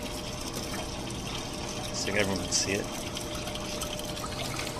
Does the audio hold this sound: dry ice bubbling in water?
yes